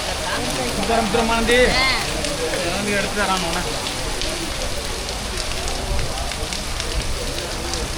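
Heavy rain pours steadily at a Perumal temple, a dense continuous hiss of drops on surfaces, with people talking over it early on.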